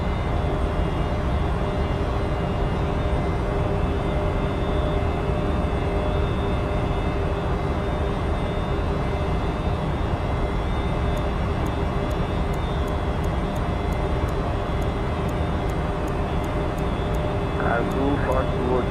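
Embraer E190 jet from Microsoft Flight Simulator roaring steadily through a takeoff climb, a dense continuous engine drone with high whine, while a voice talks over it.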